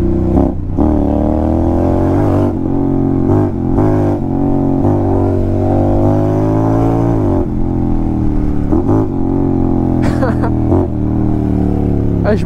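A loud Honda X-ADV scooter accelerates through Paris at night, its engine note rising in steady harmonic sweeps with brief gear-change dips, close and dominant throughout the clip, with voices talking over it.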